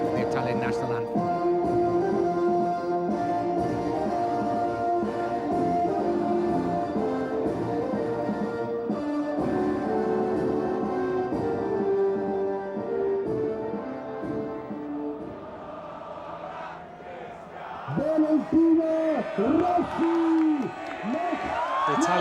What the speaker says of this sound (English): The Italian national anthem continues. They're singing away, although the tape has actually finished.